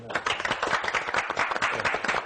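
A crowd applauding a winner on the reality show Farma, dense clapping close and fairly loud that runs steadily for a couple of seconds.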